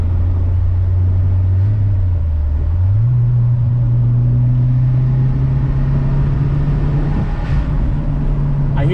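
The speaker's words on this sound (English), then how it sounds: "I hear the sound of that blow-off valve." A 1994 Toyota Celica GT-Four's engine drones steadily as heard from inside the car, its low note stepping up as it pulls, with a brief faint hiss toward the end. No one speaks.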